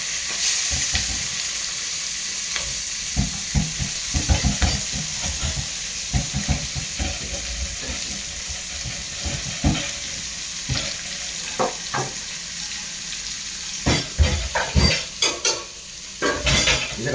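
Curry leaves, green chili and onion sauté in hot oil for a peanut curry: a continuous close sizzle broken by irregular spatula scrapes and knocks that grow busier and louder toward the end.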